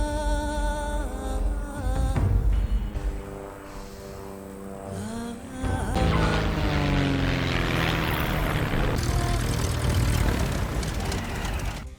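Propeller plane engine droning and shifting in pitch as it comes in, loud and steady, rising to a rougher roar toward the end.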